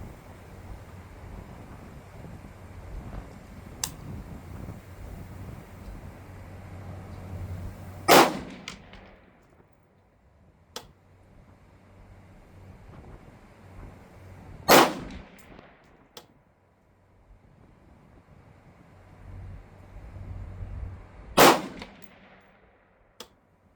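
Three sharp rifle gunshots fired at a target 100 yards away, loud and evenly spaced about seven seconds apart, each a crisp crack with a short ringing tail over a low windy outdoor rumble.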